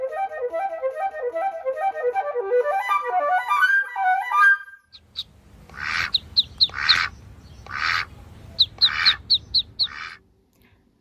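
A solo oboe plays the duck theme from Peter and the Wolf after the end of a fluttering flute passage, giving a series of nasal, quacking phrases with pauses in between over quiet orchestral backing.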